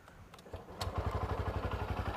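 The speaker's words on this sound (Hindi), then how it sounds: "आइए एक एक करके बाइक स्टार्ट कर लेते हैं और इंजन साउंड एग्जॉस्ट नोट सुन लेते हैं।" A motorcycle engine starts and settles into a steady, rapid idle exhaust pulse, close and fairly loud after a few clattering cranks.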